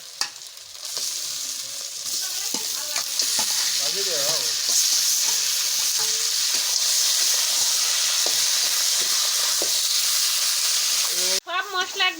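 Chicken meat sizzles and fries in hot oil with onion, chilli, garlic and ginger for biryani, a steady loud crackle with intermittent stirring scrapes and clinks throughout.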